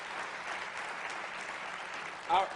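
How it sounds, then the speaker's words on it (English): Steady applause from an audience at a county State of the County address, many hands clapping in a continuous wash, followed by a brief voice near the end. "Give him a round of applause."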